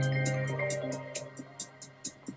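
Buoyant version of an iOS 26 ringtone, a bright chiming melody with a steady low tone underneath and evenly spaced high bell-like notes, clear and alone.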